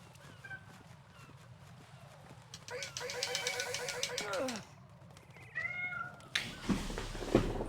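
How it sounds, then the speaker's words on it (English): A cat meows repeatedly from inside a locker in the Metal Gear Solid 2 game, drawn-out calls rising and falling over a low game hum, with a louder burst near the end. "God Damn cat."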